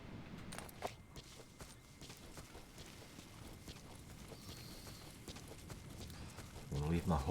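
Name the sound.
horse hooves on road in Metal Gear Solid V video game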